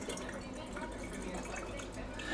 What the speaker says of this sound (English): it does say to use some filtered water, so I got it filled up to the number 2 mark. I'm going to go ahead and pour this in.